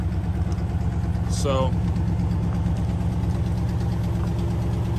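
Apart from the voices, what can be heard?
1954 Ford Mainline engine idling with exhaust leak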